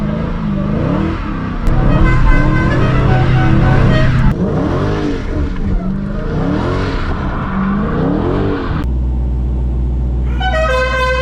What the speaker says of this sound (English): The air horn that I have is the Dukes of Hazzard horn